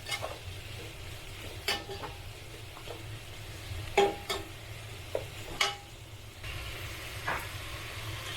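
Ginger garlic paste frying in a pan for crab biryani, being stirred with a spoon: a soft steady sizzle broken by a few sharp scrapes and clinks against the pan.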